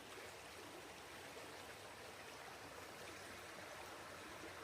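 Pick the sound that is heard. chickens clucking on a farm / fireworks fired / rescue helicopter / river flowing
river flowing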